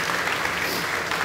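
A church congregation claps during a Sunday worship service, a brief, steady burst of many hands with no voices over it.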